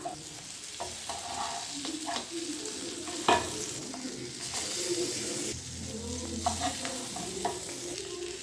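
An egg roast sizzles in oil after being flipped in a pan, giving a soft, steady crackle with scraping stir sounds and a few clanks of the spatula nearby.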